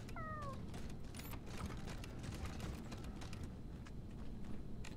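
A cat meows once near the start in the Wasteland 3 video game, a short rising-falling call over a steady low game ambience with faint clicks and movement.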